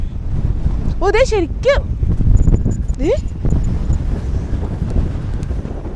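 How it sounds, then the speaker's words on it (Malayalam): Strong gusty wind on a hilltop at Shanthanpara in Idukki roars and buffets the microphone continuously, while a few people exclaim and talk briefly over it. "നിൽക്കാൻ പറ്റുള്ള അത്ര നമ്മളെ ഇങ്ങനെ തള്ളിയിടുന്ന ടൈപ്പ് കാറ്റാ."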